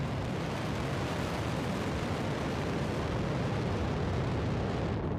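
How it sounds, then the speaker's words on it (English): SpaceX Falcon 9 rocket engines at liftoff on the Transporter-13 launch, a loud, continuous broadband roar with crackle that holds steady and alone throughout. "Liftoff of the Falcon 9."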